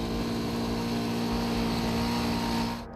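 Loud, steady gas engine powering an LS3 legged military robot, a constant droning hum with strong low harmonics that holds for about three seconds before dropping off at the end.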